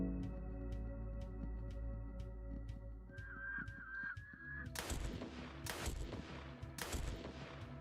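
Rifle shots ring out in the horror game Fear & Hunger Termina, several loud, sharp reports spaced about a second apart over a droning game background, preceded by a short warbling cue.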